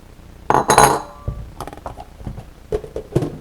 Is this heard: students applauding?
no